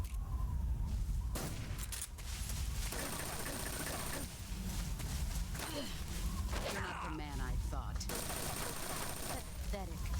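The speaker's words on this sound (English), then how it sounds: "She's just shooting me with a Patriot." Patriot rifle gunfire in the video game Metal Gear Solid 3, rapid automatic bursts repeating throughout, fairly loud and close, mixed with gasps, grunts and game effects, with speech over it.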